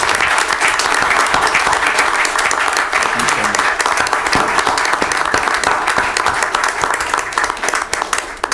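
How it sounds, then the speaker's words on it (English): An audience at a city council meeting claps steadily and loudly, a dense, even round of applause that tapers slightly at the end. "A round of applause for Dan Most"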